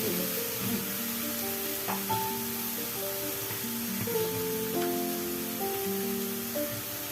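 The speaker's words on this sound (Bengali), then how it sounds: "এবারে মশলাটাকে কষাবো।" Masala for gathi kochu chana dal fries in a pan with a soft, continuous sizzle, steady and fairly quiet, with faint light clinks and no talking over it.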